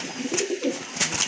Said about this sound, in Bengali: খুবই অস্থির এক জোড়া কবুতর